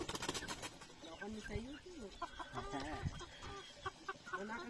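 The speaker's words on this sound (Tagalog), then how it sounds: "Kawawang manok." Chickens on a Benguet farm clucking in short, pitched bursts close by, with faint voices talking in the background.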